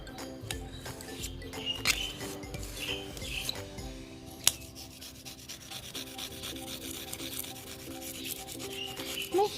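Razor blade scraping hard water spots off car window glass: repeated short gritty scrapes and rubs up close, uneven in rhythm, with a sharp click partway through.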